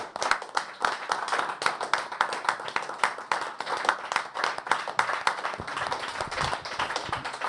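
A church congregation claps together in steady, dense applause, close and lively, with scattered voices beneath the clapping.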